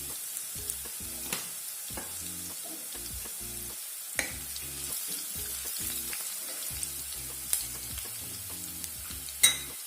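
Crushed garlic and asafoetida frying in hot oil in a pan, a soft steady sizzle with intermittent sharp crackles and stirring clicks, close and quiet, no speech.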